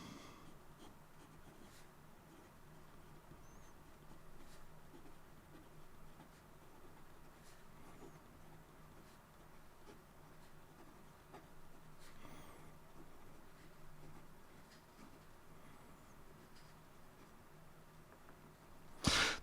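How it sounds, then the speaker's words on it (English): A Hex Pens Lucent fountain pen writes an ink sample on paper, a continuous soft scratching of nib strokes with faint taps, close and quiet, ending in a brief louder rustle. "And here we go with the rest of the writing sample."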